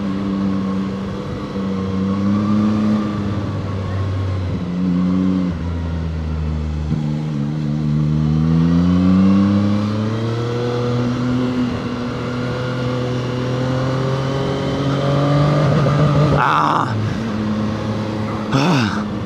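A Zontes 703R motorcycle engine revs and pulls while riding winding roads, its loud, close drone rising and falling in pitch through gear changes, with wind rush and a brief burst of noise near the end.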